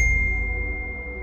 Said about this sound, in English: Just imagine you receive notification.